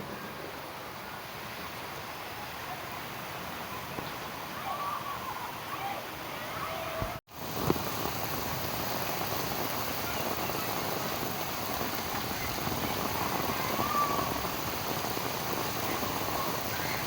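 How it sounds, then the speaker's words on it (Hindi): Heavy monsoon rain pours down at dusk in a garden with bougainvillea, a steady dense hiss that holds throughout, broken by one brief sharp knock partway through. "शाम हो चली है और देखिए फ्रेंड्स, कितनी तेज़ बारिश हो रही है।"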